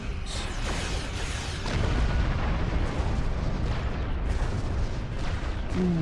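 Starship cannons fire in the space combat game Star Trek Online, a dense barrage of booming energy blasts layered over a rumbling, continuous roar, with repeated sharp hits and no pause between them.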